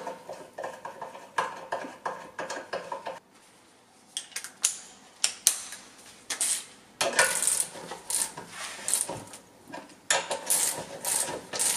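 A torque wrench tightens connecting rod bolts in an engine rebuild, with sharp ratcheting clicks in bursts and short bright metallic snaps, close and loud, separated by brief quiet gaps, no talking.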